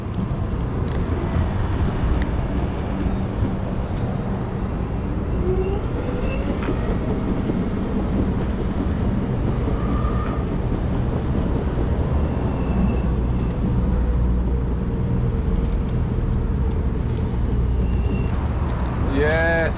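An Exway electric skateboard on 85 mm wheels rolls steadily over pavement, giving a continuous rumbling road roar with wind buffeting the microphone and a few brief clicks near the end.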